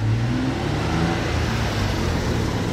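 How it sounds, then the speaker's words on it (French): An Audi R8 ABT XGT V6 race car engine running loudly nearby with a rough, deep mechanical roar and slight rises in pitch, steady throughout with no voices. "Il y a un gros moteur V6."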